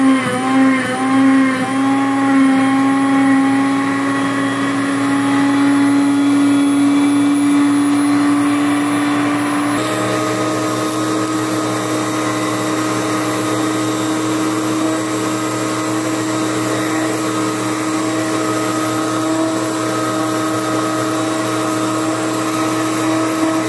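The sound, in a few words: blender blending chocolate ice cream cake mixture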